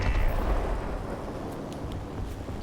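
Bombs from a B-18A bomber in War Thunder explode with a deep, heavy rumble that is loudest at first and then fades into a steady low roar, with no voices.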